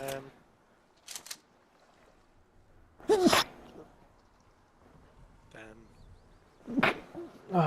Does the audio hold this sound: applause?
no